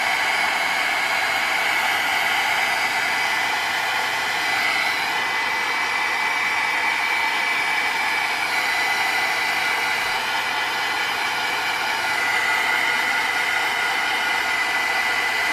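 A handheld heat tool blows hot air to melt craft embellishment material layer by layer, a continuous steady whooshing hiss, close and even throughout with no talk.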